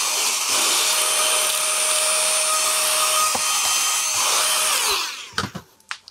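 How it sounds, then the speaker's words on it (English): A vacuum cleaner runs loud and steady for about five seconds, sucking up broken glass shards from a Nordmende Rigoletto radio, then shuts off and winds down with a few clattering knocks. "I'm actually going to vacuum them up so I don't cut myself on this."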